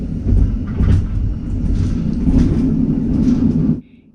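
A Swiss train rumbles steadily along the rails with a low, heavy roar and faint rattling, then the noise drops away abruptly near the end.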